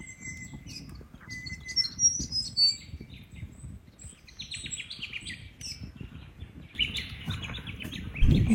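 Many birds chirping and calling in a forest at a campsite, scattered tweets and short trills near and far over low rustling and wind, with no voices.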